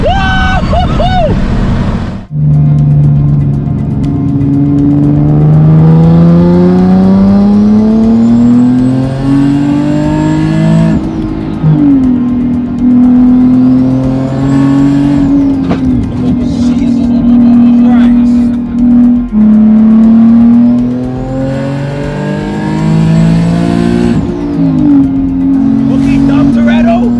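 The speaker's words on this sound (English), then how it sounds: "It looks like the car's stuck in like two-step mode." A Nissan 370Z engine stuck in two-step mode revs hard and continuously, its loud droning note rising and falling in repeated surges under excited shouting voices.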